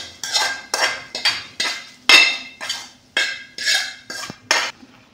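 A metal spoon scrapes and clanks against a pot while masala is stirred into cooked rice for kaara pongal, about a dozen rhythmic strokes, close and crisp, with no talking.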